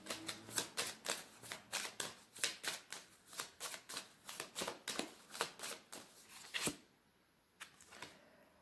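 Tarot cards being shuffled in a steady run of quick, crisp riffling bursts close to the mic, ending with a sharp snap and a brief lull.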